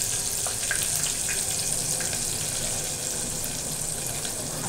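Chopped mint leaves sizzling in hot oil for a tempering, a steady even frying hiss close by and without talk.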